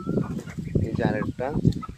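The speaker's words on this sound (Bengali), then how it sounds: "এই দেখতেছেন এগুলো হচ্ছে দেশি মুরগি।" Native desi hens cluck together in a pen with older hens, giving a close, busy run of short clucks and calls that carries through the whole short stretch.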